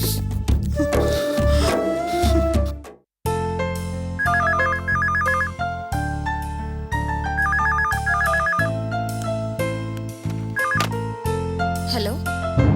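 An incoming call sets a phone ringing with a melodic, repeating electronic tune that plays over background music, steady and moderately loud for several seconds.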